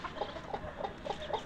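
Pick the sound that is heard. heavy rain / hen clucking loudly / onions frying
hen clucking loudly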